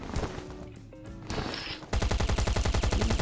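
Rapid automatic gunfire in the survival game Last Island of Survival during a robot-war base raid, scattered shots at first, then a loud, steady burst of evenly spaced rounds for the final second and a half.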